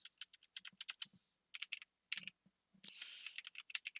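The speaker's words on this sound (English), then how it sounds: "the things I'm typing now is a configuration script" Quiet, brisk keystrokes on a computer keyboard as a network switch configuration script is typed in, coming in irregular bursts with one short continuous run of rapid typing and brief pauses between.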